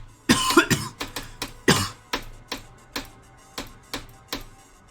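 Repeated coughing from one person, a few harsh bursts followed by a series of evenly spaced sharp ticks or taps, fairly close and clear with no talking.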